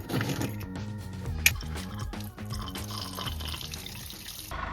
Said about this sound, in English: what I'm doing now is I'm dumping our wastewater, but really it's just gray water